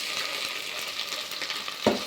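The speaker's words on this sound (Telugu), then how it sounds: "పచ్చివాసన పోయేదాకైతే వేయించుకోవాలి దీన్ని." Ginger garlic paste fries in a pan for pulao, giving a steady loud sizzle with soft stirring scrapes throughout and one brief louder clink near the end, with no talking.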